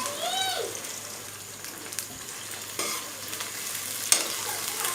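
Cut okra sizzling in hot oil in a pan, a steady broadband hiss with occasional scrapes and clinks of a stirring utensil; a brief high whistle-like sound appears near the start, and no one speaks.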